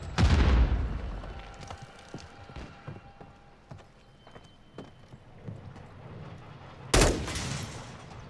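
A Semtex grenade explodes in Modern Warfare III multiplayer. A loud boom opens and fades into scattered distant gunshots and clatter, and a second sharp blast comes near the end.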